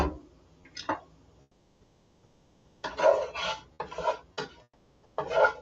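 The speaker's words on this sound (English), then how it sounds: "Regular whisk. Do this in a little sauce pot." A regular whisk scrapes and rasps inside a small sauce pot in short, rhythmic bursts, with quiet pauses between strokes.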